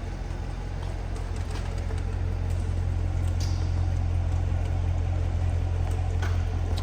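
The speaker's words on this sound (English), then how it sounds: "listen to the exhaust idle here" A 2017 Chevrolet Corvette 1LT convertible's exhaust idles with a steady, low rumble and a deep, even tone, a faint broadband hiss above it and no speech.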